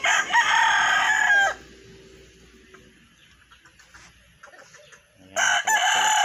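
Free-range Banahaw line gamefowl on a farm crow loudly in two bursts at the start and end, with quieter clucking and scratching in the gap between.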